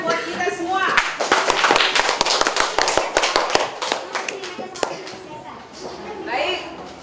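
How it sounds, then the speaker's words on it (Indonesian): Schoolchildren in a primary classroom at SDN 3 Percontohan Peusangan clap their hands in quick, uneven bursts, with children's voices chattering over the clapping before it thins out near the end. "tepuk tangan buat kita semua"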